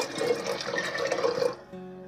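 Water pours into a pot of milk with a brief, close splashing gush that stops abruptly, leaving a quiet tail.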